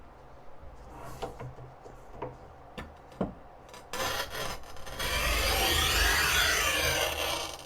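Manual tile cutter scoring a ceramic tile: scattered clicks first, then a steady gritty rasp that builds to a loud, continuous scraping in the final seconds, with no voices.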